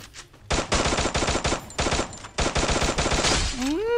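Rapid automatic gunfire from the online shooter game Sigma, several sustained bursts fired in quick succession, loud and close, ending with a rising whistling tone.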